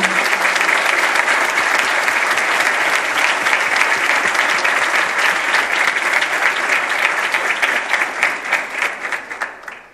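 Sustained applause from an audience at a political event presenting pre-candidates, dense and steady for most of the stretch, thinning toward the end.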